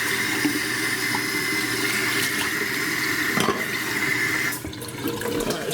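Cold tap water runs steadily into a pot of boiling macaroni water in a home kitchen, a continuous close hiss and splash that cuts off near the end, with no talk.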